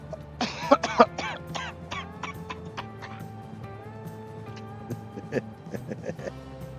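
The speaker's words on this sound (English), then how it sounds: "Started as a real cough, switched to a fake cough." A real cough turns into a fake cough: a few harsh close coughs and throat clearing, then quieter deliberate cough sounds over game background tones.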